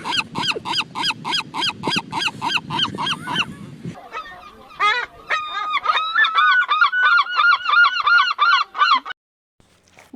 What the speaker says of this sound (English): Here let's enjoy the sound of this seagull bird.